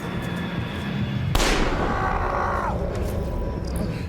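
A single sharp gunshot cracks out of a steady in-game soundscape in the horror video game The Quarry, followed by a short fading ring.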